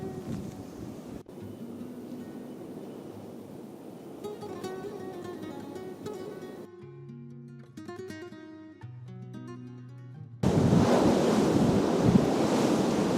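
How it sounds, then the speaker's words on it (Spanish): Strong wind sweeps through a canyon near Rello in Soria, Spain, a rushing roar buffeting the microphone that eases off midway and then returns as a loud, sustained gust at the end. "es que hace un viento tremendo"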